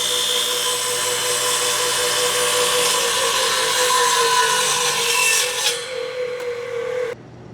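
A radial arm saw makes a rip cut through a board, giving a loud, steady, whining buzz of the blade in wood that holds for several seconds, then wavers and cuts off abruptly near the end.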